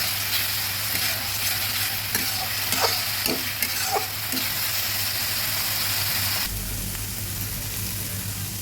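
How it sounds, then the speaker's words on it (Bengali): Steady sizzling of ginger-garlic paste frying in a pan for tengra fish curry, with a few scraping stirs early on; the sizzle continues alone, close and fairly loud. "সামান্য একটু রসুন বাটা ভালোভাবে নেড়ে দিচ্ছি আদা রসুনটা ভাজা হয়ে আসলে"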